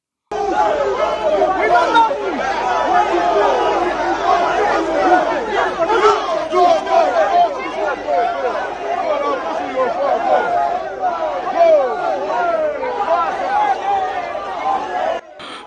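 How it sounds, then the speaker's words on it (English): A large outdoor crowd chants and boos continuously as police escort a man away, a dense, steady roar of many voices without pause. "While the obedient keep on chanting, "Holy, holy, thief, thief," and they keep on booing him while the police shade him away"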